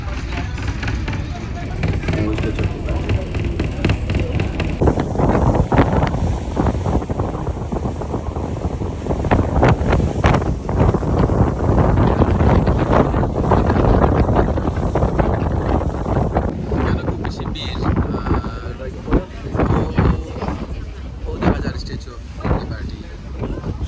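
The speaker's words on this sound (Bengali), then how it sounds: "বাতাস খুব বেশি যেহেতু আমরা নদীর ফেরি" Strong wind roaring across the microphone on a river ferry near the Statue of Liberty, continuous and loud throughout, with water and boat rumble beneath and people talking faintly.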